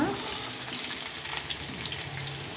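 Onions and garlic sauté in a pan for red chutney, a steady close sizzle of frying with soft stirring scrapes running throughout, no voices.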